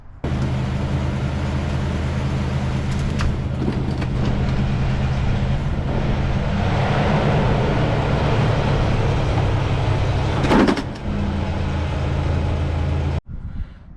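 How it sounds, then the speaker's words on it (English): A second-generation Toyota 4Runner drives slowly up onto ramps, its engine a steady close rumble for about thirteen seconds with a brief louder thump near the end before it cuts out abruptly. "I'm going to put the 4Runner up on some ramps."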